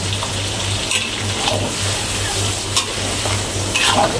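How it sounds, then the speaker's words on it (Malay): Steady sizzling of blended spice paste frying in a pan, with occasional stirring scrapes, continuous and close, no talking. "Ni kita tumis dia lagi."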